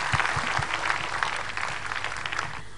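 A concert audience at a 2004 exclusive concert applauds steadily, a full wash of clapping with a few sharper claps near the start, easing off slightly at the close.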